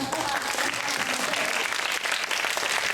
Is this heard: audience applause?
yes